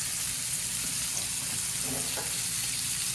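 Pork chops browning in a hot pan, a continuous even sizzle holding at a steady level throughout, with no talking over it.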